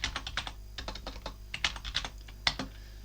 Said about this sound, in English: all we have to do is type certutil